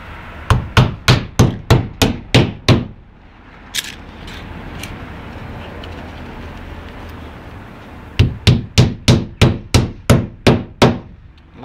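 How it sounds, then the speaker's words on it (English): A hammer drives nails into a wall stud while plasterboard is being patched. A quick run of about ten sharp, loud strikes is followed by a quiet pause with faint handling noise, then another fast series of about ten blows. "And on this side, nail it back onto the stud."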